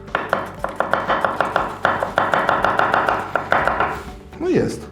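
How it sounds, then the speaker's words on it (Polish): A sharp Japanese knife chops quickly through food on a cutting board, with rapid, evenly spaced thunks close up. "przy dobrym, ostrym nożu można to zrobić tak"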